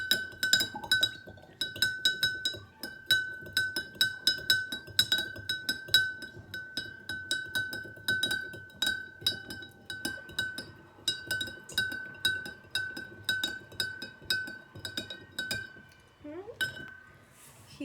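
A spoon clinks steadily and rapidly against a glass as salt is stirred into water for a floating egg experiment, a sustained ringing tone under the repeated taps, close and fairly loud, stopping near the end.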